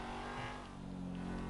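A stolen car driven in GTA 5 Online, its engine droning steadily with a low harmonic hum and some revving, loud and continuous without talk.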